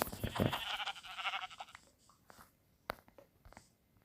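A Minecraft sheep bleats once, loud and wavering, then fades into quiet with a few soft clicks and taps afterward.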